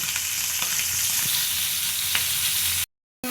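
Pieces of fish fry in hot oil in a pan, a continuous loud sizzle and crackle with a few faint clinks, ending abruptly in a short silence.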